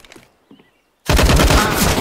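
Rapid automatic rifle fire in the video game CS:GO, a loud sustained burst of closely spaced shots after a second of near silence and faint sounds.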